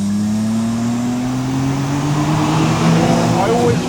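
A BMW M3 CS Touring estate accelerating hard around the high-speed Thruxton race circuit, a loud, steady engine drone rising in pitch with a voice talking over it.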